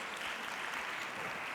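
Audience applause at an on-stage leadership and fashion conversation, a steady wash of many hands clapping at moderate distance, continuous with no voices over it.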